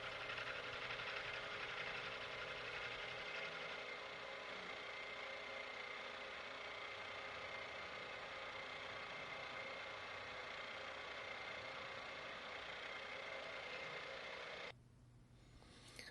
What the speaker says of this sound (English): Using a mill, I'll mill out the pockets for the tang